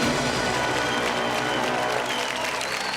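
Steady, dense applause from a studio audience on the Bhojpuri edition of a KBC quiz game show, sustained clapping filling the whole moment with faint crowd noise beneath.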